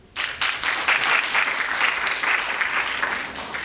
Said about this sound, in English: Give Charles a hand, please.